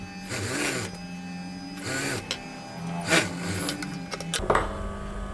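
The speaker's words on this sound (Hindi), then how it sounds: "ऊपर हमें सिलाई लगाते हुए साइड कर लेंगे।" A sewing machine stitches the side seam of a women's top in several short runs separated by brief pauses, each burst a steady mechanical whirr at close range.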